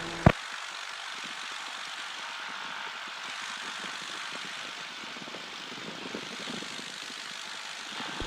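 A Piper propeller airplane departing runway 01 produces a steady, continuous engine drone that stays close and even throughout, with a brief sharp click at the very start.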